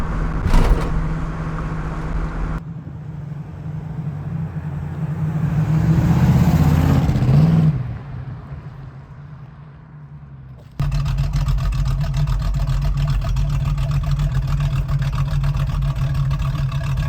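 Interior cabin noise of a 1969 Pontiac Trans Am Ram Air on the move: a steady low engine and road drone that swells, dips to a quieter stretch, then returns loud and constant for the rest.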